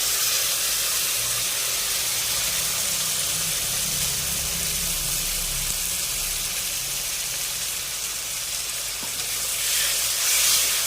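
Coriander paste added to frying masala for a fish curry gives a loud, steady hissing sizzle that holds without a break, close up and with no voices.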